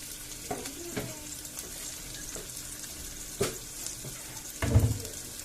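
Onions fry in a pan while making upma curry, with a soft continuous sizzle and occasional scrapes and clinks of a spoon stirring, a louder stir near the end.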